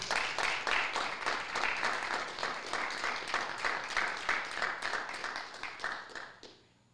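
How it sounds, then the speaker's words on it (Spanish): Audience clapping at an amateur astronomy conference talk: a dense run of applause that holds steady for several seconds, then thins and fades out near the end. "aplausos"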